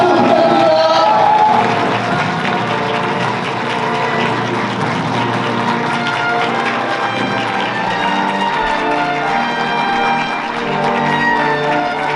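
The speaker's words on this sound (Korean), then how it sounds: "뜨거운 박수로 축하해 주시기 바랍니다" Wedding guests applaud loudly as the groom enters the hall, a dense, sustained wash of clapping with crowd noise and faint music beneath.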